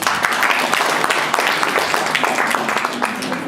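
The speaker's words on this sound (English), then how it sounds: "Okay, let's clap for the guests." Guests at a goal-setting seminar are applauded by the audience with uneven, close clapping, mixed with some voices in the room.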